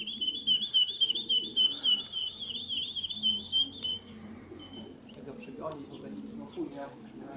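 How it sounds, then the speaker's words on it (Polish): A starling near a racing-pigeon loft in Czersk gives a rapid, warbling run of chirps for several seconds, then falls quiet while people talk nearby. "O, a nie, to szpak chyba."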